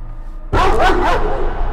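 Dog barking in a horror video game about a painter father gone mad: a sudden loud bark bursts in after a quiet start, followed by a couple more close yelping barks and a whimpering tail.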